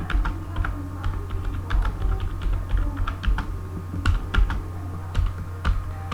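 Keys clatter steadily on a computer keyboard as code is typed, a continuous run of close, crisp clicks with irregular rhythm and no voices over a low background hum.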